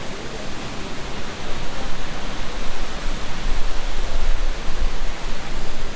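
Randha Waterfall near Junnar, Maharashtra, in the monsoon: a loud, dense, unbroken roar of falling water, broad and steady with no voices.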